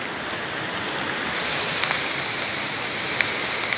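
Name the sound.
heavy rain falling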